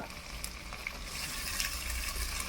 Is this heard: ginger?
yes